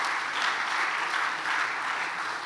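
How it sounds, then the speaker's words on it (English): Steady audience applause fills a conference hall at a Ghanaian CEO summit opening, sustained and even throughout with no voices on top. "I believe they deserve a round of applause."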